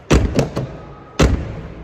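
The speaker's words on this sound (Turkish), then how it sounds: "kapıyı kapatırken araba sallanıyor" Several heavy, dull thuds of a Dacia Sandero Stepway hatchback's rear door being shut, three quick knocks followed by one solid slam after a short pause, the car rocking as it closes.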